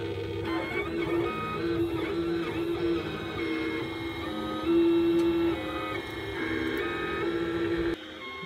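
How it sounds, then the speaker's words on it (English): 3D printer printing a Google Home Mini wall mount, its stepper motors whining in shifting tones with repeated short movements and a steady hum, close and continuous. "Cura says it's gonna take 6 hours and 21 minutes to print"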